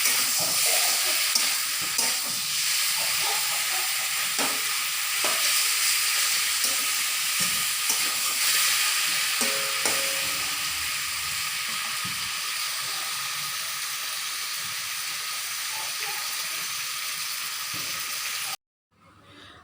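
Prawns and taro stolons (kochur loti) fry in a pan, giving a steady, loud broadband sizzle with faint clinks, holding for about eighteen seconds before cutting off abruptly near the end.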